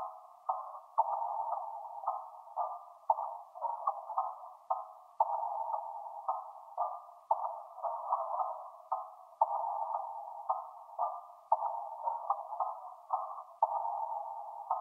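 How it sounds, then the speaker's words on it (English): Reversed, pitched-down texture loop in an FL Studio trap beat, a narrow, filtered midrange tone pulsing in short repeating swells with a steady, looping rhythm, playing alone at low level. "And the last sound I added was this only one texture loop."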